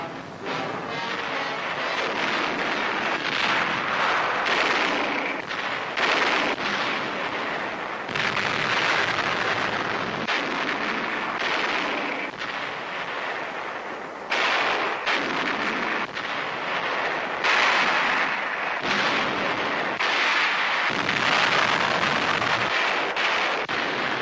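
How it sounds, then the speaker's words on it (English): Heavy guns pound Japanese cave positions on Saipan in 1944, a steady run of booming blasts and rumbling bursts with wind-like roar between them, loud and continuous with no voices. "Hit on a Jap cave as relentlessly United States guns clear the path for our advancing"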